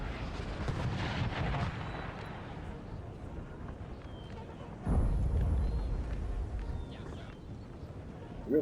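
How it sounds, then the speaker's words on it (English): Artillery fire in the Napoleon Total War battle game, as French guns pound Austrian troops: a dense, continuous rumble of distant booming cannon that swells louder midway, with some horse and battle noise mixed in. "The French artillery causing Austria for some grief over there"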